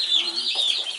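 Young meat-bird chicks and turkey poults peep and cluck in a close, continuous, high-pitched chatter over about a second, with no talk.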